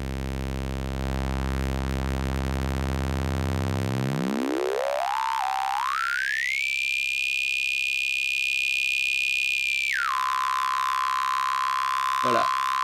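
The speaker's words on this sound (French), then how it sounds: "Et lorsque je vais intensifier l'effet, les partiels vont s'éloigner de plus en plus des fréquences harmoniques." Error Instruments Spikes modular synthesizer module producing an inharmonic beating effect: sustained electronic tones whose partials glide and sweep upward into a steady high whine, then drop to a lower hum.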